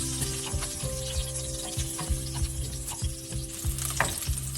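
A medium potato, unsalted and unspiced, shallow fried in oil in a pan, giving a steady, close sizzle broken by a regular rhythm of stirring scrapes.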